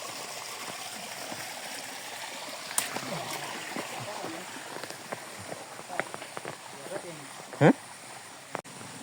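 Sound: small roadside waterfall flowing at Alutila

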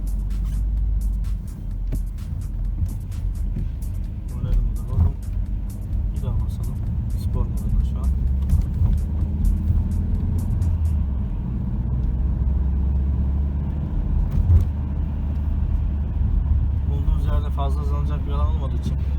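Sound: 2012 Citroen C5 1.6 e-HDi automatic car accelerating

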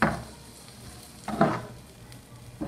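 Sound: machaca beef frying in lard on low heat, stirred

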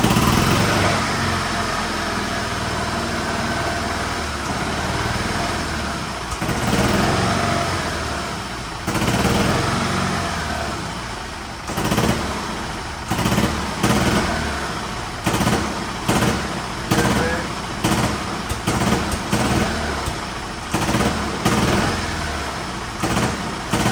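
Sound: Yamaha G16 gas golf cart engine running rough at low idle

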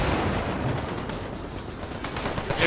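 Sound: gunfire from a trench in the video game Gates of Hell

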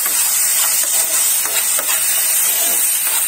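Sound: frying and stirring ingredients in a pan for hot and sour paneer noodles

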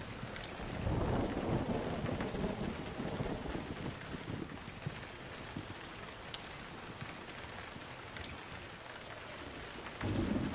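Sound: thunderstorm with rain, from the video game Emergency 4

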